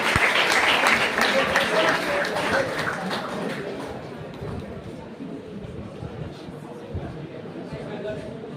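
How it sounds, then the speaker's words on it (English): Audience applause for Pine Mount School at an inter-school science seminar in Shillong: a burst of hall-wide clapping that is loud at first, then fades to a quieter, thinner patter under a murmuring crowd. "So please give a huge round of applause for Pine Mount School"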